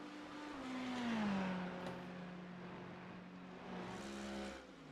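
A GT3 race car on extra-wide racing slicks sweeps through the carousel at Road America, its engine note droning steadily and bending downward as it runs past at moderate distance, with no talk over it.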